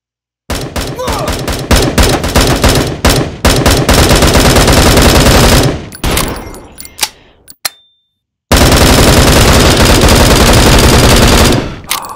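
Sustained rapid automatic gunfire in the shooter game Bullet Force, loud and close, with a short pause and a few scattered shots before another long burst of fire.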